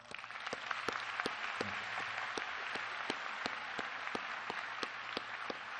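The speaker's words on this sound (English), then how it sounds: "Graduates, would you please show your appreciation with a big round of applause?" Applause from the crowd at a 2024 Forest Hill Community High School graduation ceremony, a steady distant roar of many hands with a few sharper nearby claps standing out.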